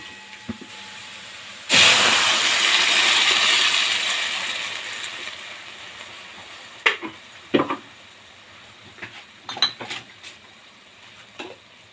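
Grated tomatoes poured into a hot frying pan burst into a loud hissing sizzle that slowly fades, followed by scattered clinks and scrapes of a spoon stirring against the pan.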